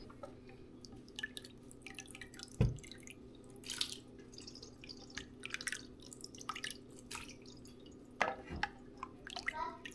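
Rendered beef fat dripping through a tea towel into a bowl, a quiet, irregular series of soft drips and wet splats with a few louder drops, alone in a still kitchen.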